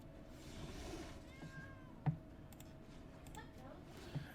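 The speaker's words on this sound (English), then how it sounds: "the cat on here sounds so realistic" A cat meow sound effect from the digital card game Magic: The Gathering Arena plays faintly once, over low background noise with a couple of soft clicks.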